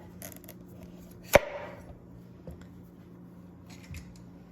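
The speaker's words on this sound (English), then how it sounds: "The squash is hard to get through, so you have to be very careful when you're cutting it." A kitchen knife cracking through a hard raw butternut squash, one sharp close chop with a short ringing tail over a low background hum.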